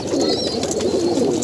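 Soft, low cooing of pigeons, steady and continuous, with a faint bird chirp drifting above.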